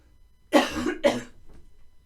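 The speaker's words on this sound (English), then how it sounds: "I'm going to have a little cough." Two quick, close coughs in a row in a dusty hut, the first slightly longer, followed by a faint breathy trail in an otherwise quiet space.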